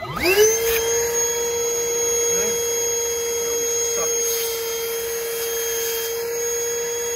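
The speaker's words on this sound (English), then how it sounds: "So I got the shop vac. It was gonna suck this." A Milwaukee shop vac spins up and runs steadily while it sucks out a drain hose, giving a loud, close, continuous whine with a rising start and faint background voices.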